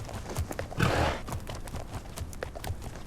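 Horses in The Legend of Khiimori game, with hoof clip-clops and a brief whinny or snort burst, moderately loud against a busy background of steady in-game ambience, no talking.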